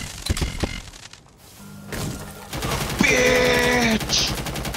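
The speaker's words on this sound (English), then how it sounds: "Ooh, they're shooting!" Bursts of gunfire from the video game Rainbow Six Siege, sharp rapid shots early on followed by steady game sounds, loud and close with no talk over them.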